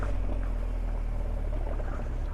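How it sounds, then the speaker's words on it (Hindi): A motorcycle labors and slides on a steep rocky slope, its engine a loud, continuous low rumble with rough broadband noise throughout. "देखो कितनी बाइक स्लाइड हो रही है।"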